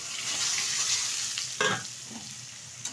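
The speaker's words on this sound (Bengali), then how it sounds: "ভালোভাবে ফুলকপি আলুটা ভেজে নেবে তেলের সাথে" Parboiled cauliflower and potato fry in oil with whole cumin, a continuous close sizzle broken by a couple of stirring scrapes, one sharper clatter partway through and a brief knock near the end.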